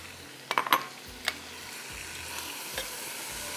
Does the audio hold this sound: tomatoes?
yes